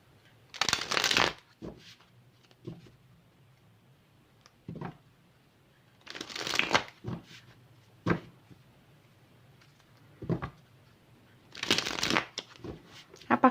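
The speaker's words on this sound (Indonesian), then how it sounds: "5 kartu. 3 kartu aja." Tarot cards are shuffled close by in three bursts of riffling, each about a second long. Quieter taps and card handling fill the pauses between them, and a low hum runs underneath.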